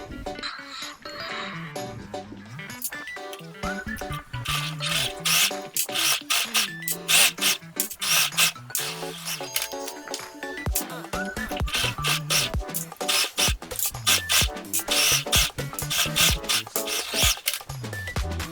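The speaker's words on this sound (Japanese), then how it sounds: "このように合わせましたら、縫い代1センチで縫います。" A sewing machine stitches a 1 cm seam on an insulated lunch bag with a zipper, sounding as rapid rattling runs of stitching broken by short stops, close and clear with no voice.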